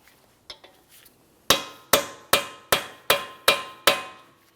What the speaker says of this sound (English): Continue on with a hammer and punch directly in the center of your axle shaft. We're going to lightly tap on this